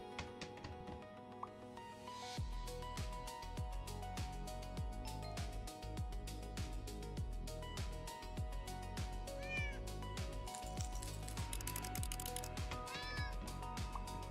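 A cat in a video game meows repeatedly over about a dozen seconds, short bright calls spread across a continuous musical and ambient game soundtrack.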